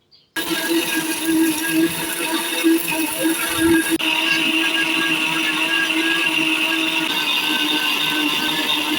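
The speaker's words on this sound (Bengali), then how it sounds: "ডাল দিয়ে দিচ্ছি ভেলেন্ডারে, আর বেসন তৈরি করে নিচ্ছি।" An electric kitchen blender grinds dry lentils into gram flour, its motor kicking in abruptly and then whirring in a loud, steady, high-pitched drone with a slight shift in pitch partway through.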